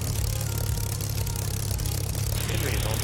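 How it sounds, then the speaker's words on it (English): A Spitfire engine idles with a steady low rumble in Microsoft Flight Simulator, running continuously at a constant level from start to finish with no sharp changes. "Oh, I heard another spit start up."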